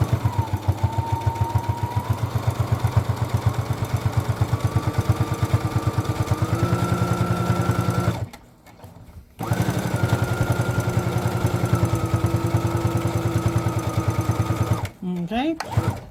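Domestic sewing machine stitching the edges of a small fabric keychain made from scraps, a steady rapid needle chatter that pauses briefly midway, then resumes and stops again near the end.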